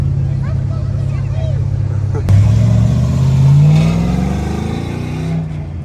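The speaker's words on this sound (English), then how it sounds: "That makes a lot of noise for a truck." A modified, non-stock Chevrolet S10 pickup truck revs its engine loudly close by, a deep engine roar that climbs in pitch as it accelerates, with voices and background chatter mixed in.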